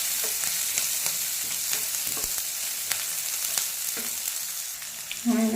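Deseeded tomatoes and onions frying in a pan give a steady, close sizzle with light stirring scrapes and clicks throughout, and a brief louder bubbling burst at the end.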